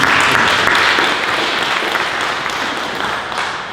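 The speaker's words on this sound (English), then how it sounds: "So a big round of applause for Eileen." A church congregation at a Non-Subscribing Presbyterian service breaks into dense, sustained applause that fills the room evenly and slowly tapers off, with no talk over it.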